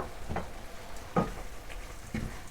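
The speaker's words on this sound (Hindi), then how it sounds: "मसालों को मिक्स करके भून लें" Spices and about half a teaspoon of black pepper frying in a karahi for prawn curry, with a soft continuous sizzle broken by three short stirring scrapes, close and fairly quiet, no talk.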